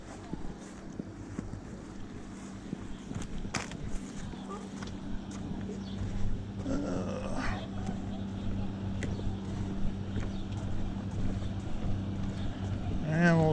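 A pontoon boat motors across a lake, its low steady engine drone running continuously under heavy wind buffeting on the microphone and faint water noise.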